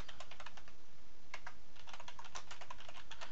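Computer keyboard being typed on for a command, quick clusters of crisp key clicks close up with a brief pause, no voices.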